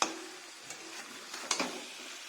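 Marinated chicken in a hot pan with masala water just added, giving a steady close sizzle throughout, broken by a few soft stirring knocks; no talking.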